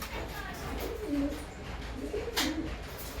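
Pigeons in a loft giving low, soft cooing calls, a few rolling coos repeated over a faint background hiss.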